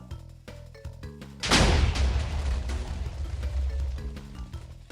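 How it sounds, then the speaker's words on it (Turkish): A Minecraft end crystal explodes with a sudden loud boom that decays into a long rumbling tail, following a few short musical tones. "Hemen şuradan üçüncü end kristalimizi de patlatalım"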